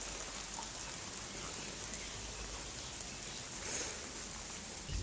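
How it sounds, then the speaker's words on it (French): Soft, steady patter of rain falling, a continuous hiss at low volume with no voices. "La pluie sur le visage."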